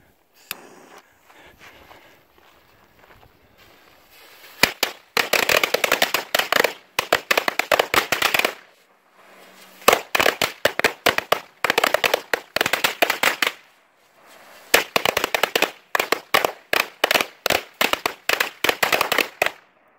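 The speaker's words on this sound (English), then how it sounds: "Here's three 50 strips roller coaster brand firecrackers" Three 50-strip Roller Coaster brand firecrackers go off in rapid crackling bursts, each lasting a few seconds, separated by short quiet gaps and ending in scattered pops.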